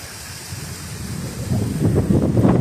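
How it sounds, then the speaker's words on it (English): Wind gusting along a park trail, a broad rushing roar with rumbling buffets against the microphone that build louder toward the end, with no voices. "that wind all of a sudden is whipping through here"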